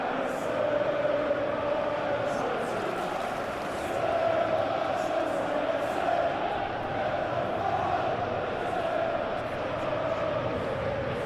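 Steady roar of a large stadium crowd in a PES football video game, Chelsea versus Newcastle in the Premier League, with surging swells of chanting that continue unbroken under the pre-match atmosphere.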